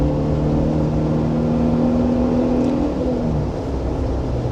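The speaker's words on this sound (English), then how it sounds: "You can rev it a bit more if you want, just rev it out." A Suzuki Jimny 5-door's engine held at high revs, a steady strained drone with a sustained whine that barely changes pitch, close and loud, then easing slightly near the end.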